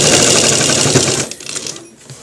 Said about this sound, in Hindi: बिल्कुल आराम से आगे तक इसको सिलाई लेकर जाना है।